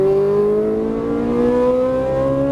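Ferrari 458 Italia V8 engine pulling hard on throttle out of a corner, a loud, steady high-pitched howl rising smoothly in pitch as the revs climb, heard from inside the car with no talking.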